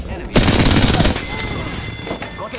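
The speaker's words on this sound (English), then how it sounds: "I am taking fire, friend." Rapid automatic gunfire in the video game Apex Legends, a loud close burst of shots in quick succession, followed by fainter scattered shots and game effects.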